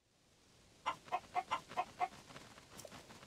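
A chicken clucks in a quick run of six short, evenly spaced notes, faint against a quiet background, then trails off into softer, scattered clucks.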